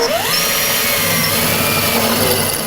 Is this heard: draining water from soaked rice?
no